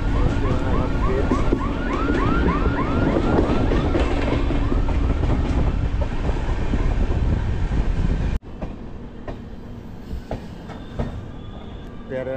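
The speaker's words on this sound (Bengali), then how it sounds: "তেরো 116 হামসাফর এক্সপ্রেস রানাঘাট স্টেশনে কিন্তু ঢুকে গেল।" Sealdah–Jalpaiguri Humsafar Express 13116 pulling into Ranaghat station, a loud continuous rumble of wheels and carriages with a squealing screech over it, then cutting to a quieter, distant station ambience.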